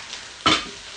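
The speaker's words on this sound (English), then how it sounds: "we're gonna saute this onion for a couple of minutes" Chopped onion with cumin seeds sautés in a pan, a steady soft sizzle broken by one brief louder burst of stirring and frying noise midway, close and without talk.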